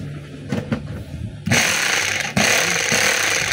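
DeWalt D25033 rotary hammer starts up after a few soft handling knocks, then runs in a loud, close, rapid hammering rattle that briefly stops and starts again, with no talk over it.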